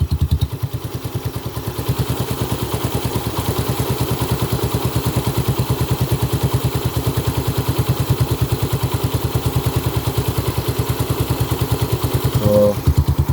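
A freshly overhauled Suzuki Raider 150 motorcycle with a 66mm block, loud power pipe and flat slide carburetor idles with a fast, steady, rhythmic putter and light ticking clatter, close and continuous.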